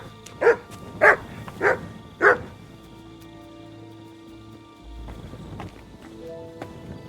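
Mutt the dog in Kingdom Come Deliverance 2 barks loudly four times in a fairly even rhythm, and then only a quiet outdoor background remains.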